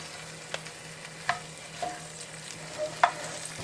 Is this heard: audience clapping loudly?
no